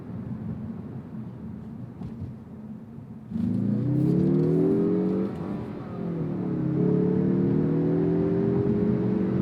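A 2023 Mazda3 Turbo engine accelerating hard, its rising tone sweeping upward through the revs, easing briefly at a shift, then climbing again as a loud, steady drone up close.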